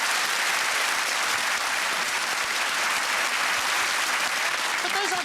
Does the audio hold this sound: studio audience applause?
yes